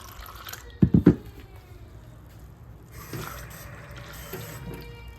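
Water runs from a tap into a baby bottle indoors, a faint, uneven trickle and splash heard up close, with a few louder knocks early on.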